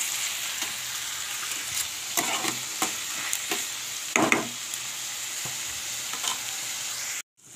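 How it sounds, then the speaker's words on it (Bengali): An egg fries in a pan on a gas stove, giving a steady bright sizzle throughout with soft scraping clicks, then stopping abruptly near the end. "আর এই পাশে আমি ডিমটা ফ্রাই করে নিচ্ছি, দেখতে পাচ্ছ।"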